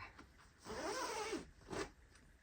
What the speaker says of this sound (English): when you open it up, you will see that you have a recessed zip